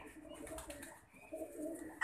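Soft pigeon cooing, low and murmuring, repeats through the short stretch with faint rustling in the background and a sharper sound at the very end.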